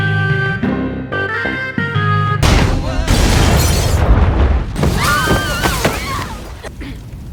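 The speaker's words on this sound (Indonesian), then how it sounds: "dia malah mengenai pesawat dan membuat ledakan yang sangat besar" A huge explosion as a plane is hit in X-Men: Apocalypse, a heavy booming blast bursting in after a musical passage, rumbling and crackling with debris for several seconds, followed by high sweeping effects and fading score.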